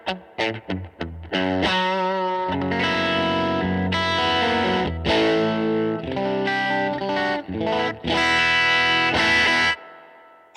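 Electric guitar run through a Fender Tone Master Pro with distortion and reverb, playing loud, sustained chords and notes with sharp picked attacks and lingering reverb tails, heard alone without talk.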